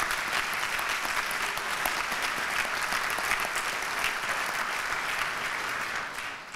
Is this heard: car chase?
no